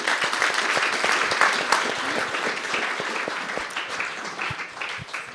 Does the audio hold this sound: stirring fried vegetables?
no